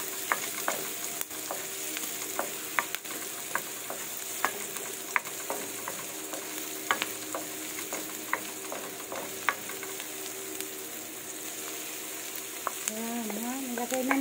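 Shredded chicken stir-frying in a hot pan with onion and garlic for chicken sotanghon soup, a steady close sizzle with a scatter of sharp scraping and stirring ticks throughout.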